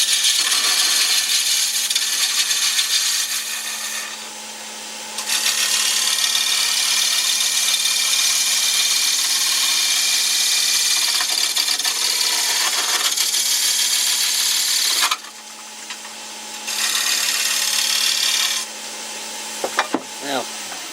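A wood lathe spins a jam chuck while a gouge trues it round to fit a dry, rough-turned bowl, giving a steady scraping hiss with a constant motor hum. It pauses briefly twice, and a few sharp ticks come near the end.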